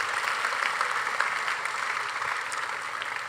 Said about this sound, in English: A round of applause for our campus ministers.